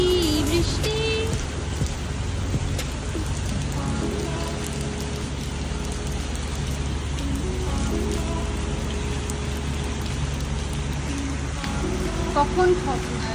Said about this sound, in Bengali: সকাল থেকে মারাত্মক বৃষ্টি হচ্ছে।